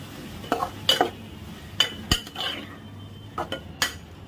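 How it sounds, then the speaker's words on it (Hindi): Machine-ground minced mutton with salt is stirred and mixed in a pan for a spring roll filling: sharp metal spoon clinks and scrapes in irregular bursts over a faint low sizzle. "इसे अच्छे से मिक्स कर लेंगे।"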